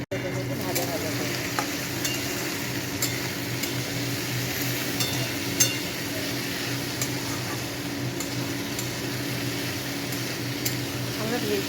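Chopped carrot, potato and green chilli fry steadily in a pan for veg chow mein, a constant close sizzle with occasional scraping stir clicks throughout.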